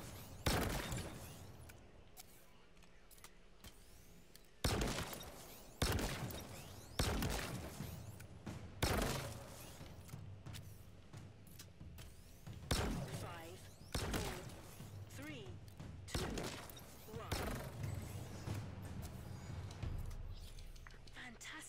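A beta weapon in Halo Infinite fires repeatedly, heavy punchy blasts spaced a second or two apart, each trailing off with a crackling tail, while a voice talks between shots.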